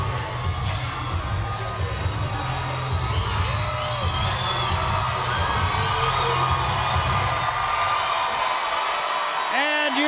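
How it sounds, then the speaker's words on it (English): A boxing arena crowd at a women's pro fight cheers and shouts steadily, a dense roar with whoops rising over it, while a commentator talks over the noise throughout. "you hear the crowd begin to react to one of their own"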